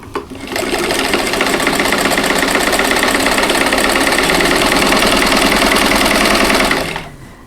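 A Singer 1590 sewing machine stitches fabric in one steady, continuous run of about six seconds, its fast even motor hum and rhythmic needle clatter loud and close, with no talking.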